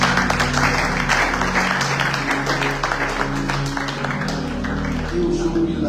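A church congregation applauding the Lord, sustained clapping from a crowd over steady musical accompaniment, with voices mixed in.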